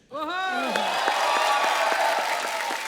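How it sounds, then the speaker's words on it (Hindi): Studio audience applause and cheering on a Hindi television comedy talk show, a dense, loud wash of clapping that starts abruptly and holds steady, with a voice ringing out over it at the start. "एक बार जोरदार तालियां हो जाएं"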